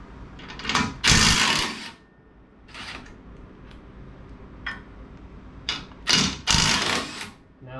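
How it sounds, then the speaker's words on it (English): Impact wrench with a 21mm socket removing the stock nuts from the front bumper support of a 2019-2023 Ford Ranger FX4, heard as loud, close bursts of hammering rattle, two long runs at the start and end with shorter bursts between. "we're going to use a 21mm socket and impact to take those back off"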